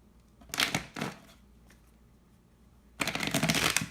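A tarot deck is shuffled up close, in two quick riffling bursts near the start, a quiet gap of about two seconds, then a longer crisp shuffle to the end. No one speaks.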